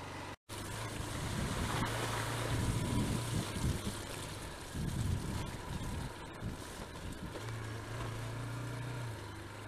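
A motorcycle pushes through water on a byway in Curridge near Newbury, the engine droning low beneath a rushing splash and wind buffeting the microphone, steady and close for several seconds.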